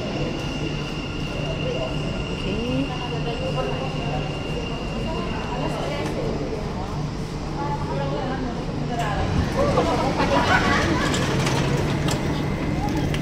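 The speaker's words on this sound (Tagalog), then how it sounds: "Yan na yung train." A passenger train pulls into a crowded station with a low rumbling roll, a steady hum and rising mechanical rattle, while people talk nearby throughout.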